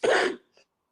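A single short, raspy cough, close and fairly loud, followed by a faint little catch of breath.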